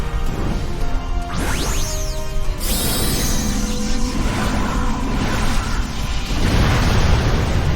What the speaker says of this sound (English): Dynamax and Max Phantasm.